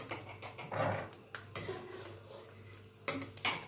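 Roasted almonds scraped and lifted out of a pan, with a series of soft metallic clinks and scrapes of a utensil against the pan at close range, including a few sharper clatters.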